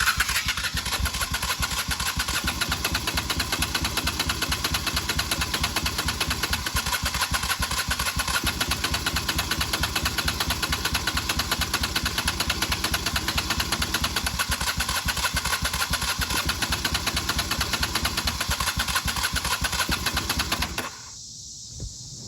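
A 1995 Honda Shadow VLX 600 motorcycle engine cranks on the starter without firing: a loud, steady, rapid mechanical churn that runs unbroken for about twenty seconds and then cuts off abruptly, with no voices.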